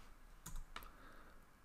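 A few keystrokes on a computer keyboard while entering a command in Command Prompt, two quiet isolated clicks against a faint background hush.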